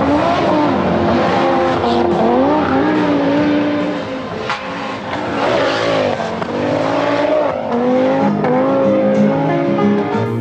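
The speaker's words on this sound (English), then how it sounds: "The second thing is the sound of a five-cylinder engine." A loud, raspy Audi five-cylinder rally engine revs hard and continuously, its pitch climbing and dropping through gear changes, close and dominant throughout.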